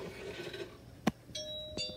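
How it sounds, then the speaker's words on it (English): A doorbell chimes once in a quiet room, a bright ding followed by a second tone that rings out briefly and fades, with no talking over it. "Ding dong."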